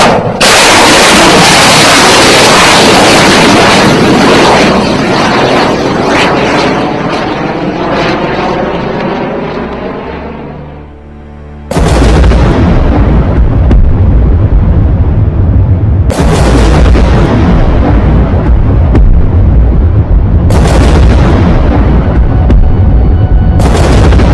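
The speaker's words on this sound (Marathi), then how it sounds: "Missile launch in five, four, three, two" A loud roaring rush of a missile launching, then heavy booms and rumbling blasts that repeat at intervals.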